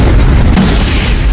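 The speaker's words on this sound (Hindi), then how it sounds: "हमें यहाँ एक और पेपर बॉम्ब मिला है। मैं इसे अभी डेटोनेट करना होगा।" A paper bomb detonates in a Naruto anime battle scene: one loud, deep, rumbling explosion boom that fills the whole moment with heavy low-end roar, with no voices over it.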